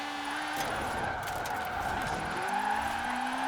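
Engine and tires of a Honda Prelude with a roughly 700-horsepower VTEC setup in Forza Horizon 4, a steady droning engine tone with rising pitch sweeps and some tire squeal, loud and continuous throughout.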